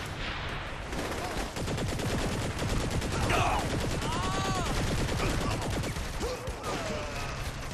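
An SMG fires in the video game Saints Row: The Third, a dense, continuous rattle of rapid shots mixed with game effects. Over the final seconds the burst grows slightly patchier.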